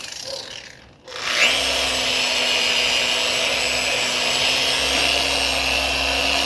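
A 2.5-inch polisher with a fine buffing pad runs steadily on a 1979 Mercedes 300SD bumper, a continuous whirring drone with a faint whine that starts after a brief pause and holds even, close and loud.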